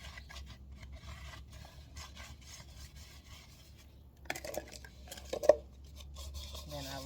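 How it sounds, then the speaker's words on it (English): A hand rubs used cooking oil around the inside of a plastic container, making a faint, continuous scrubbing with a few louder scrapes near the end. "I'm just rubbing it all around the inside so that the other container will release"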